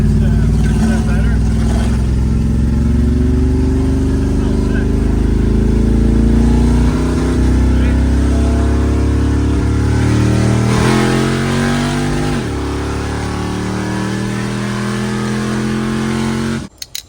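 A car engine fitted with an HEI distributor, running rough at lower speed, revs steadily and loudly close by, its pitch rising and falling through several throttle changes before cutting off abruptly.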